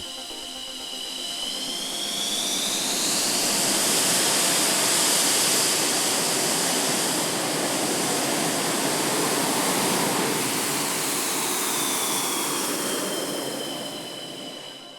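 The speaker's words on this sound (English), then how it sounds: "This is the quite extraordinary, the unbelievable MiG-29M OVT." A MiG-29M OVT thrust-vectoring jet fighter at an air display roars loudly and steadily for the whole stretch, with a broad engine rush and a high whine that shifts pitch as it passes.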